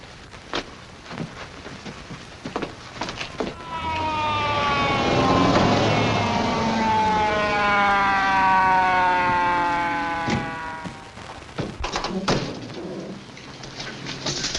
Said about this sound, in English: That ambulance for him?